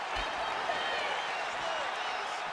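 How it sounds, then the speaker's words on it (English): A UFC fight crowd roars and murmurs in a broad, steady wash of arena noise with scattered applause, heard at a distance under a commentator's voice. "you hear the crowd react every time they come together because they understand the power that these guys are striking with"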